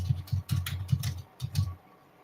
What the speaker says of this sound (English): How loud is the typing, guys?